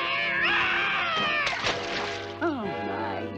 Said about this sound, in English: What's wrong now, you stupid cat?